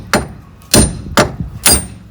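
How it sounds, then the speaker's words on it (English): A heavy hammer bangs a wheel stud out of a hub with four loud, close metallic whacks spaced roughly half a second apart. "Just bang it."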